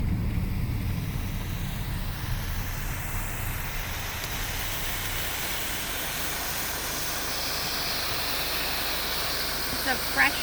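Rushing waterfall of fresh mountain water in the Alaskan woods, a dense, steady roar filling the whole stretch with constant wind-like hiss, loud and close throughout, with a small bump of noise at the very end.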